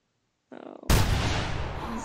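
A hunting rifle fires one sharp, loud shot in theHunter Classic while hunting a Dall sheep. A short mechanical sound comes first, then the blast and its long echoing tail.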